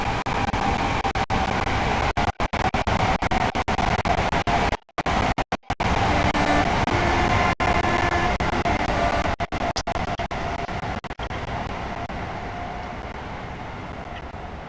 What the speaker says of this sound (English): We're going to let the train pass